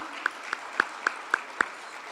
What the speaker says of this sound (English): And Keith Duncan, a round of applause for him.